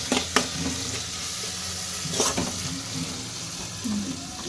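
Sauce is stirred in a hot frying pan, a steady sizzle broken by a few scraping clacks of the spoon against the pan, close and moderately loud, with no talk.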